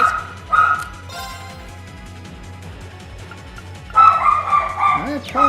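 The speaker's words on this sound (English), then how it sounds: "my dog just feels like he's got to bark right now" A dog barks and yips loudly in bursts over a video game's background music and sound effects, with a pause of quieter music between the barks.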